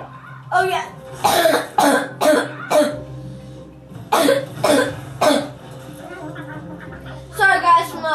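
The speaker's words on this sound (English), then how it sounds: "Sorry, guys, for my horrible cough." A person coughs repeatedly in harsh bursts, several rapid coughs in two clusters, close and loud, with some talking mixed in.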